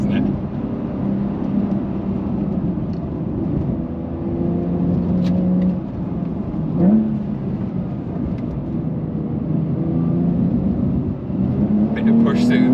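A manual Porsche 911 (992) Carrera 2 GTS engine pulls hard under acceleration, its note rising and swelling in the cabin while someone talks over the continuous engine roar.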